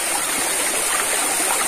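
Water of a river stream flowing steadily over rocks, a continuous broadband rushing wash that stays loud and even throughout with no talk.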